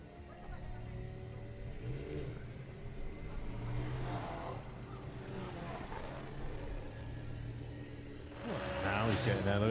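Drag racing car launching at a Bug Jam drag strip event, engine roaring and building in intensity as it accelerates down the quarter mile, a loud rising surge at the end, with a commentator's voice running over the engine.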